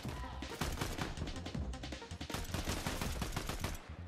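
Gunfire in the Fortnite video game: dense, rapid automatic bursts that continue almost without a break, loud and close.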